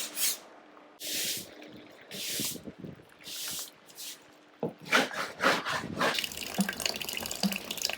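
Water pours and splashes into a boat hauled out in a boatyard, arriving in several separate gushing bursts followed by a sustained spraying flow with wooden knocks.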